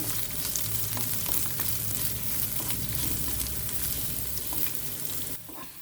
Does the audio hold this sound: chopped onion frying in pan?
yes